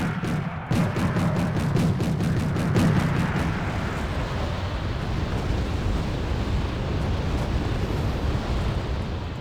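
Mortar barrages and distant artillery impacts in the Cold War strategy game Wargame: AirLand Battle, a dense, continuous rumble of overlapping booms with a cluster of sharp reports early on, loud throughout with no talking.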